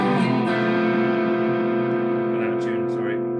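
A Squier Classic Vibe SRV Stratocaster electric guitar through heavy high-gain overdrive distortion, a sustained, saturated chord ringing loudly and evenly for several seconds.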